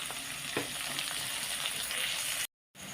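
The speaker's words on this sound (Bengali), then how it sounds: "পেঁয়াজটা আগে বাদামি করে ভাজা হোক" Onions browning in hot oil in a pan for a spicy chicken dish give a steady close sizzle, with a brief stir clatter early on and a short silent gap near the end.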